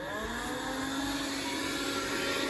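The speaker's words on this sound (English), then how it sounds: "We also got a Karcher window vac, which is great for removing condensation" Karcher window vac drawing condensation off glass in an old Scottish cottage, a steady close whirring suction hum that holds unbroken throughout.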